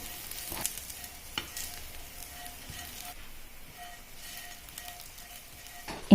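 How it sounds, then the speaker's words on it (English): Skin sizzles gently in oil with cumin seeds, chana dal, urad dal and green chili, a soft steady frying hiss with a few light clinks of stirring. "We saute it until the skin changes its color."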